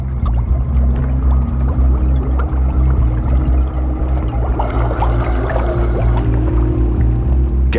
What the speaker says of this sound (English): Gas constantly streams out of the lake bed, clouding the water with bubbles.